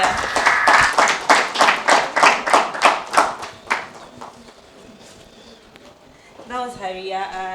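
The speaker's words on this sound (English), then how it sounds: "a round of applause for Habiba." At the Miss Muslimah Ghana 2021 pageant talk show, a round of sharp, evenly spaced claps rings out close and loud, then fades as a voice begins speaking.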